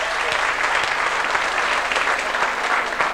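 Hearty applause from a crowd at a live country music show for the bass player, dense and continuous clapping at a strong, even level throughout.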